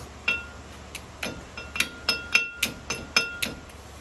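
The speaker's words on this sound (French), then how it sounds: "On va prendre le petit marteau qui va bien." A small hammer taps on the front brake parts of a Ford Transit during a disc and pad change, about ten sharp metallic clinks in a fairly even rhythm, close and alone.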